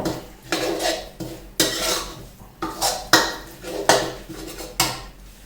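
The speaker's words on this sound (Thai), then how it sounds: "งาขาวที่ลงไปเลยครับ แล้วก็ คนก่อนนะครับ" Spoon scraping and clanking around a pot while white sesame seeds are stirred into a red pork sauce, a steady series of close metallic strokes repeating roughly every second with a light sizzling undertone.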